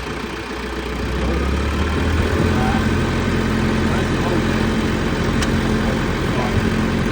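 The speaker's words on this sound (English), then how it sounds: "go ahead and run your RPM a little bit on the pedal" A TYM Branson 5520CH tractor engine runs loud and close, its RPM rising on the pedal into a steady rumbling drone.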